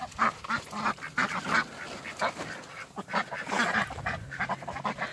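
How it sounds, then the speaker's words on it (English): A small, rare Shetland duck quacks among a backyard flock of waterfowl, with repeated short nasal calls in uneven bursts, fairly close and clear. "That is a Shetland duck."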